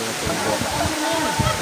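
A small waterfall with only a little water flowing, heard as a steady close wash of rushing water that fills the whole clip, with some talk over it.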